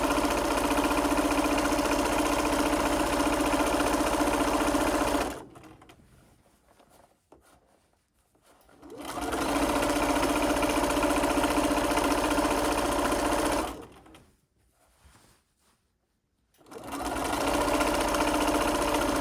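A sewing machine runs steadily on a lengthened stitch while gathered fabric is pulled through along a seam, with two short pauses between loud, continuous bursts of stitching close to the microphone.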